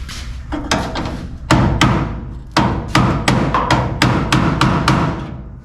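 A hammer taps a replacement tail panel into place on a 1962 Chevrolet Impala, about ten sharp metallic knocks spaced irregularly, close and fairly loud with short ringing decays.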